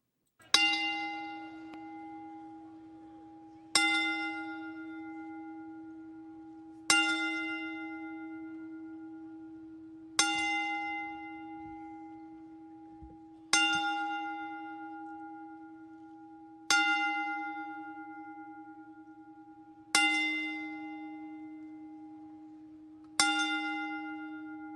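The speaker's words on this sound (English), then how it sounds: "for the 10 bell salute." A single bell struck eight times at slow, even intervals for a ten-bell salute, each clear ringing strike decaying into the next, alone with no talking.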